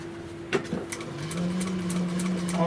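A sewing machine back-stitches a seam of upholstery material at the end of a cord while making Park Ave car seats. The motor runs as a steady, close hum with a rising pitch and faint clicking ticks from the mechanism.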